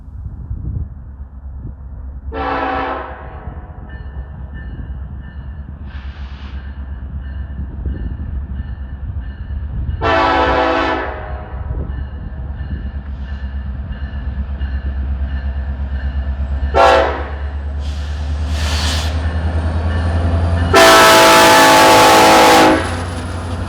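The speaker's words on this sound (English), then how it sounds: "coal train coming." A BNSF or Union Pacific coal train near Plattsmouth, Nebraska rumbles past with a steady low roar while its horn sounds in several blasts, the last one long and very loud and close.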